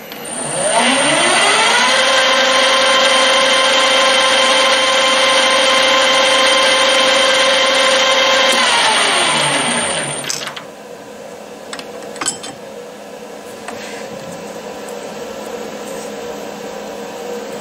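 A die filer, a reciprocating filing machine, runs loudly with a steady mechanical whine for about nine seconds, then winds down and stops, leaving a few faint knocks and handling sounds.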